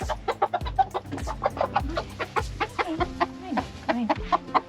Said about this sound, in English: so we got all our chickens over here